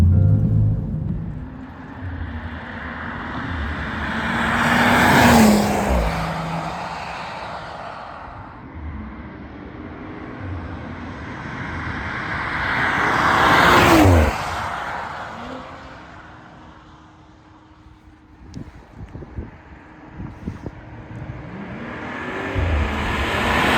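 BMW M235i turbo car driving in sport mode, engine rising and falling through two strong accelerations with a deep exhaust rumble, heard close from inside the car with no talk.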